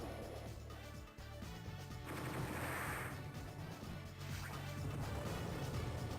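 Battleship firing in the Advance Wars: Dual Strike video game, a dense run of loud game explosions and impacts with a brief dip near the start, then sustained booming blasts to the end.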